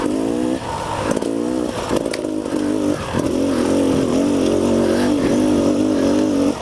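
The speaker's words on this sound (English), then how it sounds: "Come on, little beta Xtrainer, you can do it. In third gear, you can do it." A Beta Xtrainer dirt bike engine revs hard in third gear, with a loud, close, buzzing two-stroke whine that rises and falls in pitch as the throttle is worked.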